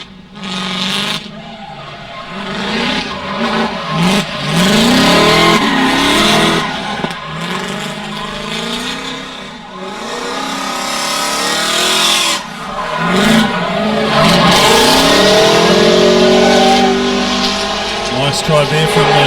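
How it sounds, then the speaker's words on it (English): Drifting cars and drag racers at a New Zealand race park during the Drag Racing Nationals, with loud engines revving and tires squealing continuously under commentary. "the noise you can hear behind us, of course, is the New Zealand Drag Racing Nationals as well, which is going on"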